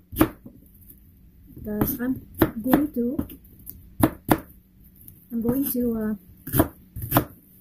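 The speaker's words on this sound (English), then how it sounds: "This is the leftover of that radish. So I'm just cutting it. Small pieces." A knife chops leftover radish into small pieces on a board while preparing quick homemade kimchi, giving sharp, close, irregular thuds in short bursts, with a person talking between the cuts.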